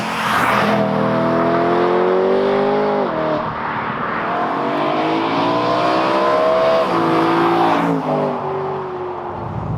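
A BMW E92 M3 engine pulling hard while the car is driven, its note rising in loud, sustained sweeps, with a brief drop between gear changes around the middle before climbing again, heard close and without talk.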